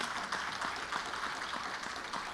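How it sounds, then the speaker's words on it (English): Applause from an audience at a children's model and talent showcase, a steady wash of many hands clapping heard alone at moderate volume. "Let's give everybody a round of applause."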